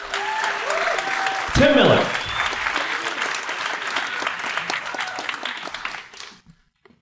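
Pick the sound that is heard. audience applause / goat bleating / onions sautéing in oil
audience applause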